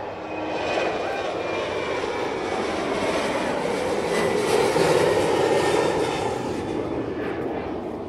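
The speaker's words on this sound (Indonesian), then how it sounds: "Ini ada pesawat yang mau lepas landas. Kelihatan seperti Lion Air." A Lion Air passenger jet taking off near the coast, its engines roaring steadily and loud for several seconds, the sound swelling slightly midway and holding broad and constant, with no talking.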